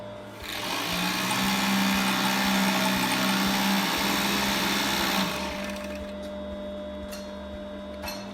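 An industrial sewing machine runs in a textile workshop, a loud steady mechanical whir and hum that starts up, holds for several seconds, then eases to a lower running drone.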